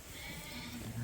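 Sheep at a farm feeder, lambs and ewes eating, make a low, muffled bleat near the end over steady outdoor noise and rustling.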